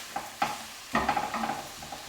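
Beef mince browns in a frying pan as it is pushed around with a utensil, with a couple of sharp scrapes and knocks and then a steady sizzle under continued stirring, close and moderately loud.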